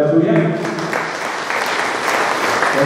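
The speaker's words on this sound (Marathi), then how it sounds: "आपण एक दुसऱ्यासाठी टाळ्या वाजवूया." Audience applause in a church during a 50th and 25th wedding anniversary celebration, a steady wash of clapping from a congregation that stays loud and even throughout, with some voices mixed in.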